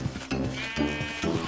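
Sheep in the Minecraft video game bleat in quick succession, two or three nasal, wavering baas close up and fairly loud, with no talking over them.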